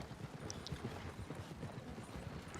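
Horse hooves clip-clop steadily in a Red Dead roleplay video game, a continuous, close rhythmic trotting patter with no voices over it.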